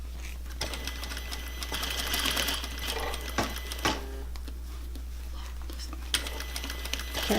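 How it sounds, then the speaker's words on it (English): Close up, a sewing machine runs in short, rapid bursts of stitching, sewing a half-inch seam through three layers of a lace gown near the boning, with brief pauses between runs. "Carefully stitching that 1/2 inch seam allowance on the seam line."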